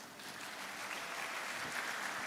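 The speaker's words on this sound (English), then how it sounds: "give applause to Professor Cheng Ho" Conference audience applauding after a plenary speaker, a soft, steady wash of many hands clapping from a moderate distance, faint and even throughout with no talking.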